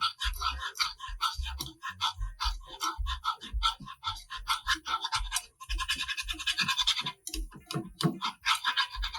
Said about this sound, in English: I usually just use a whisk.